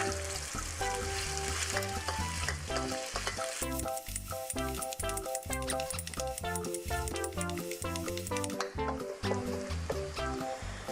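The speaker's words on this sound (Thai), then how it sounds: "พอน้ำมันร้อนดีแล้วเนี่ยเราก็ใส่พริกพริกแห้งแล้วก็กระเทียมลงไปผัดค่ะ" Chili, dried chili and garlic stir-fry in hot oil with a steady, loud sizzle and crackle, and occasional scraping of a spatula, all under continuous background music.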